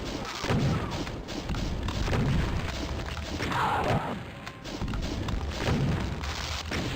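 Several heavy shotgun blasts boom from Doom II gameplay, spaced a second or two apart over steady game noise and background music.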